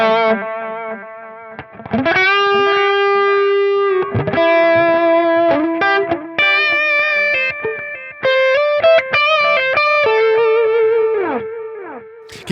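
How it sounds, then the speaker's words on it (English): A cheap $26 analog delay pedal set to its longest delay time echoes distorted electric guitar notes and chords, each attack trailing into sustained repeats that carry from one phrase into the next, loud and alone. "Now let's go all the way up and see how much delay time we can get out of it."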